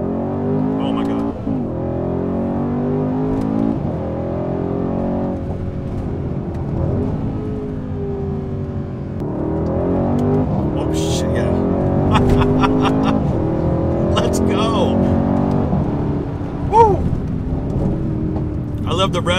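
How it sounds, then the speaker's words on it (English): A 500+ horsepower twin-turbo daily-driver car pulls a hard acceleration run, its engine note climbing through the gears with rev-matched downshifts and sharp exhaust pops and crackles, loud and close under excited talking. "let's do a little acceleration blast here, see if you can hear it"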